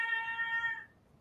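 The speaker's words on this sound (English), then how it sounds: "you might hear my cat going crazy in the background" A house cat lets out a loud, drawn-out meow close by, a single sustained yowl that fades away, with no one talking.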